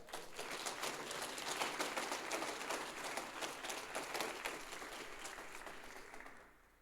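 A congregation at a church service applauds steadily for several seconds, a faint, far-off wash of many hands clapping that tapers off at the end.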